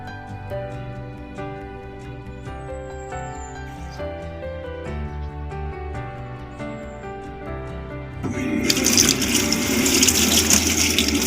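Leaves of a Blumea plant being washed in water: after several seconds of background music, a loud rush and splash of running water starts near the end and continues steadily.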